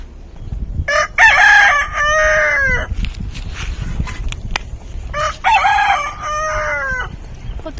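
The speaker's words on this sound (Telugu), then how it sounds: "4 కోళ్ళు ఉన్నాయి ఈడ" A rooster crows twice, close and loud, several seconds apart, with chickens clucking softly around it.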